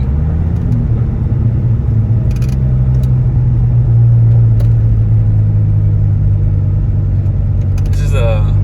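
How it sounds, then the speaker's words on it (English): A Dodge Viper's V10 engine rumbles at idle, a steady low throb with a swell in the middle and little revving, close and continuous throughout. "V10 engine."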